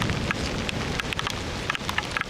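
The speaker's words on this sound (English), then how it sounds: "If Brittany can take the rain, I can take the rain." Steady rain pours onto a black sand beach of lava fields, a dense constant hiss with scattered sharper drop taps, close and fairly loud, with no voices.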